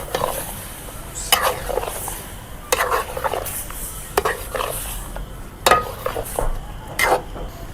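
Chicken is stirred and fried in tomatoes in a pan, with a soft sizzle beneath repeated scraping stirs and clinks of the spoon against the pot at an uneven rhythm.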